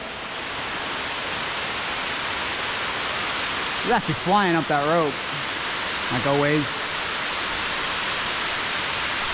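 A waterfall inside a cave gives a constant rushing roar that fills the space evenly. Two short bursts of someone talking rise above the steady hiss.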